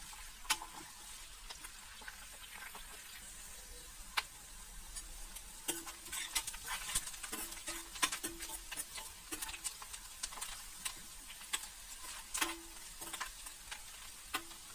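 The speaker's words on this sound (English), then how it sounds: "Keep mixing onion on medium heat till the onion turn golden brown." Onions with curry leaves fry in a pan over medium heat while a spoon stirs them, giving a steady soft sizzle broken by light scraping taps and clicks against the pan.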